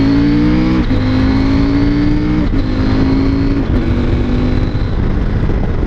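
A CFMOTO 800 MT motorcycle accelerates hard, its engine note climbing through several quick-shifter gear changes with brief dips between pulls, loud and close throughout.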